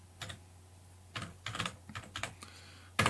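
Bursts of keyboard typing on a computer while a Telegram bot is being tested, several short clusters of keystrokes separated by pauses, close and fairly quiet, with no talking.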